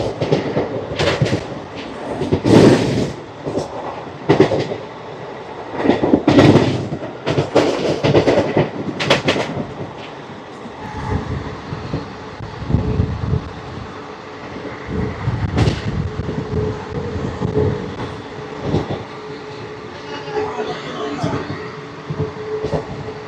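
The Ratnachal Express, train 12718, running on rails past a skipped station, with loud rumbling and rhythmic clickety-clack of wheels over rail joints heard from inside a carriage, swelling and easing throughout.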